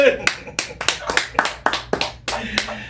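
Church congregation clapping in a steady rhythmic beat, about a dozen distinct sharp claps in succession, loud and close, with some voices underneath.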